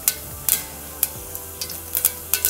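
Cumin seeds sizzling in hot oil with mustard seeds, a steady fry hiss broken by sharp pops and crackles scattered throughout.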